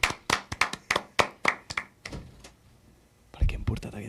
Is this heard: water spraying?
no